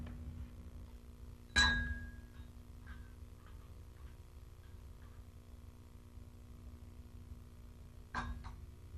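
A spoon clinks against a cup twice, one sharp ring early and another near the end, close and clear over a low steady hum, with no voices.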